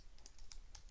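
Soft, quick keystrokes on a computer keyboard tap out a short burst of several clicks, faint and close against quiet background hum.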